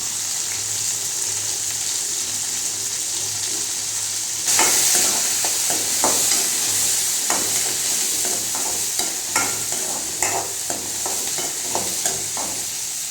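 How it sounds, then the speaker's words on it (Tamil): Four dried red chillies frying in a pan, a steady bright sizzle that jumps louder partway through, with scattered crackles and pops over a low hum, and no talk. "நாலு வத்தல் காஞ்ச மிளகாய் போட்டுக்கோம்"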